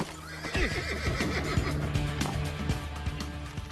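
A horse whinnies loudly with a shaky, descending neigh, alongside hoof clip-clops and layered game sound effects in Assassin's Creed 2.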